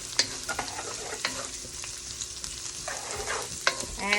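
Onion frying in a pan for homemade chop suey, a steady close sizzle and crackle with spatula scrapes and a few sharp taps against the pan, no voices.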